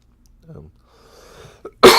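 After some quiet, muffled vocal sounds, a man lets out a single loud, harsh cough close to the microphone.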